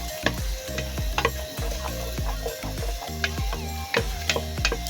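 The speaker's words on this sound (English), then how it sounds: "you stir a bit until you get the desired color" Beef heart fries in a pan, stirred with repeated scraping strokes over a steady close sizzle, the utensil knocking against the pan in an uneven rhythm.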